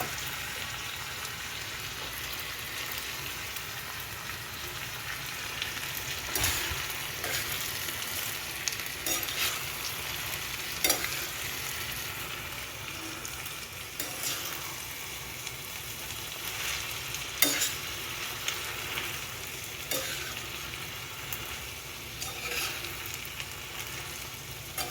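Boiled noodles with chili powder are stir-fried in a pan. A continuous soft sizzle is broken by scattered clinks and scrapes as they are tossed and mixed, with no voices.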